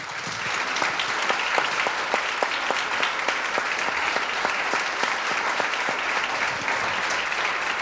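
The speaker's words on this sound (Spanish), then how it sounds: "Un gran aplauso, por favor." Sustained audience applause fills a room for nearly eight seconds, dense and steady with individual claps standing out near the front, and no voices over it.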